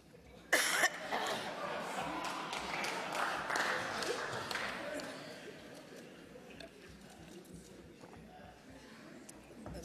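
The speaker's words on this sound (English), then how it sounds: "that cough comes at a strategic moment" A single sharp cough bursts out in a parliamentary chamber during a vote announcement, followed by a murmur of reaction and scattered noise before the room settles.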